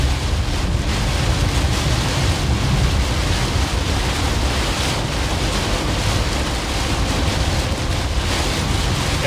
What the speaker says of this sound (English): Big time wind now.